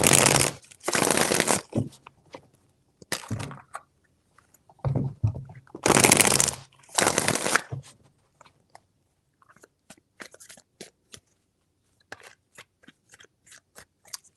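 Tarot cards being shuffled by hand, several loud close riffling bursts in the first half, followed by quieter scattered flicks and taps of the deck, with no one speaking.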